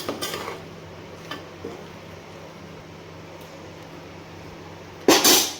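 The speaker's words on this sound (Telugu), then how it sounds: "మధ్యలో ఒకసారి మూత ఓపెన్ చేసి ఇదంతా ఇలా కలుపుకోవాలి" A lid clinks off a pot of gongura chutney, followed by faint scraping as it is stirred under a steady background hum, with a sharper metal clatter near the end.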